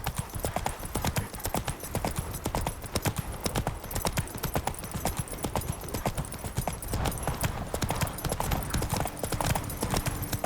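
A horse gallops in The Witcher 3 video game, with rapid, loud, rhythmic hoofbeats driving on steadily and close throughout.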